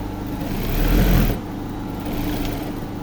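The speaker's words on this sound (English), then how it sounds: "Then you are going to sew till you reach at the other point where you stopped." A sewing machine stitches a jacket collar with a steady close mechanical whirr that swells briefly louder, then settles back to an even drone, with no talking.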